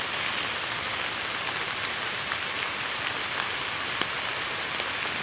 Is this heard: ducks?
no